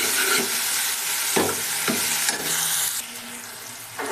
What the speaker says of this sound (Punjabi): ਇਹਦੇ ਵਿੱਚ ਪਾ ਦਾਂਗੇ ਆਪਾਂ ਇੱਕ ਬਰੀਕ ਕੱਟਿਆ ਹੋਇਆ ਟਮਾਟਰ ਤੇ ਇਹਨੂੰ ਹੁਣ ਆਪਾਂ ਚੰਗੀ ਤਰ੍ਹਾਂ ਦੇ ਨਾਲ ਪਕਾ ਲਵਾਂਗੇ ਟਮਾਟਰ ਨੂੰ